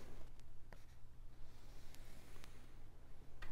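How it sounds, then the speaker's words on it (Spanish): A crayon or marker scratches across paper as the soil is colored in for a seed-planting craft, quiet close rubbing strokes with a few sharper ticks. "Lo primero que queremos hacer es vamos a pintar la tierra."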